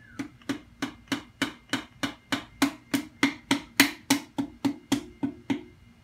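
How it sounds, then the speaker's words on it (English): The rubber end of a hammer lightly taps a Wiseco piston down into a Honda Accord K24 engine block: about seventeen evenly spaced, crisp close knocks in a steady rhythm, with no talk. "I'm just going to take the rubber end of my hammer and just lightly tap it down in there."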